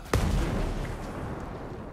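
A single sharp gunshot in the video game Ghost Recon Breakpoint, a loud close crack followed by a long booming decay that rolls away over the remaining seconds.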